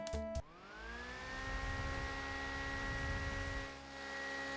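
A small handheld portable fan whirs steadily after a brief click, its motor giving a sustained tonal hum with faint airflow noise, close and alone.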